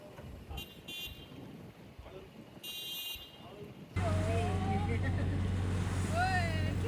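A motorboat cruising the Alleppey backwaters in Kerala, its engine droning steadily on the water with a few short horn toots early on, while people talk over the ride.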